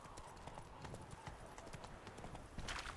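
The horse Roach gallops in the video game The Witcher 3, giving a quick, continuous clip-clop of hooves in a fast rhythm, fairly quiet and even throughout.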